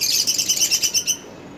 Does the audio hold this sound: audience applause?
no